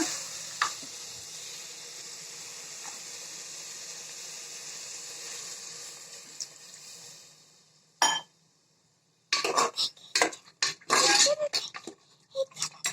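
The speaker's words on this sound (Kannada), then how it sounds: "ಈಗ ಇದಕ್ಕೆ ನೀರು ಹಾಕೋಣ." Mutton bhuna sizzling in its released oil in a pot gives a steady hiss that fades and drops into near silence, followed by bursts of loud spitting, hissing and bubbling as water hits the hot pan.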